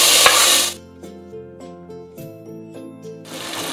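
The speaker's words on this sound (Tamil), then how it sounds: "ஆனியன்ஸ் நல்லா வதங்கிடுச்சு. இப்போ வந்து தக்காளி சேர்த்துக்கோங்க." Tomatoes go into a pan of sautéed onions and are stirred, giving a loud sizzle at the start that fades under soft musical tones and then returns, with no talking.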